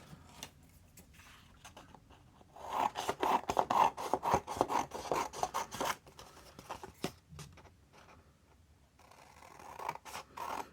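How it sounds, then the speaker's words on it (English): Scissors snip and slide through paper to cut out sales book tags, a close, quiet run of rapid crisp cuts in the middle with softer rustling before and after. "So I'm just going to cut these out."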